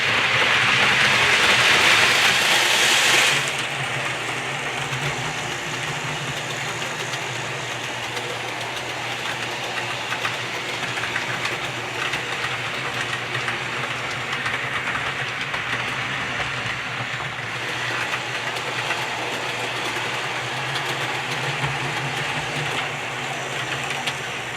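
An Atlas model train runs at full speed with a steady, continuous motor whir and rolling hum, close and fairly loud, after a brief burst of hiss at the start, without any talking.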